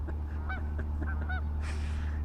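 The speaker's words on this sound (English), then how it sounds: "Oh, the geese in the background. Can you hear them?" Geese honking in the background outdoors, several nasal calls spread across the moment, heard over a steady low hum.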